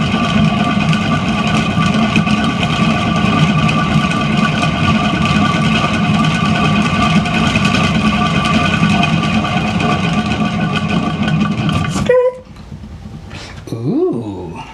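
A paint spinner whirls a bloom pour canvas in primary colors, giving off a loud steady motor drone with a humming tonal whine. It runs for about twelve seconds, then cuts off abruptly and a short winding-down sound follows.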